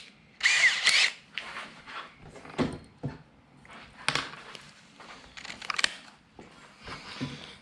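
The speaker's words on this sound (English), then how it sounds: "So now we should be able to take our drill and punch our hole." A power drill fitted with an 11/64 bit whirs in several short, separate bursts as it bores a hole, with quieter gaps and a few small knocks and clatters between the runs.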